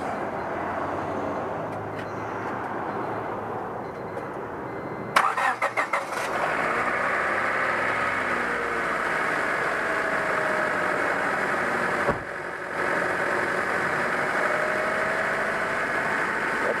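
A 1998 Honda Civic 1.6L engine cranks briefly and catches, then settles into a steady idle that runs on, heard close with a short clunk partway through.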